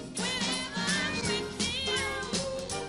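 Several kittens meow in overlapping high, thin cries, a continuous cluster of close mews over a few seconds.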